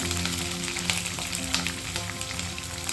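Dried red chilies and chopped green chilies fry in a hot pan with a steady, dense sizzle that runs throughout at close range, with no one speaking.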